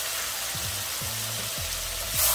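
Thick pork steaks fry in browned butter, a steady close sizzle with a few soft clunks as the meat settles, swelling louder at the end.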